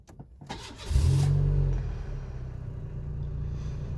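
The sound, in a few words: Renault Mégane engine restarting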